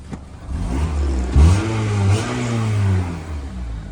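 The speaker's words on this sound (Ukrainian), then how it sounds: "автомобіль у нас запущено, автомобіль працює рівно" A 2007 Honda Accord engine idles steadily up close, a low, even rumble with a couple of brief revs swelling and settling back.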